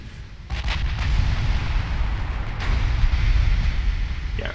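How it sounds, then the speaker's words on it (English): Heavy battleship guns fire in a naval battle in the game Ultimate Admiral Dreadnoughts, giving a loud, continuous rumbling roar of distant cannon blasts that swells and holds without any talk. "Why don't you fire your big guns at the battleship, Setsu?"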